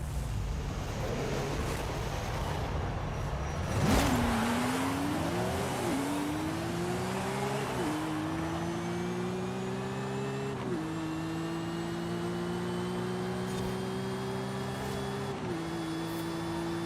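Subaru STI 2005 with a 950 horsepower drag tune launching in a Forza Horizon 5 drag race: a sharp burst at launch, then the engine climbs repeatedly, with several distinct gear shifts, a loud continuous rising whine.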